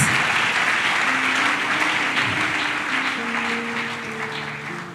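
A church congregation claps and cheers loudly and steadily, with sustained applause and rising shouts that slowly fade.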